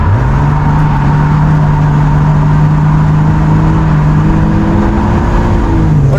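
A V8 engine in a BMW E36 drift car at a drift event drones loudly and steadily up close, holding a low, rumbling pitch with a slight rise, with no talk over it.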